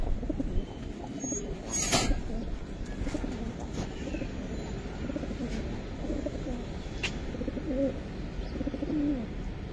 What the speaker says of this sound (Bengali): শাওন ভাই, দেখেন যে কবুতরগুলো আজকে দিব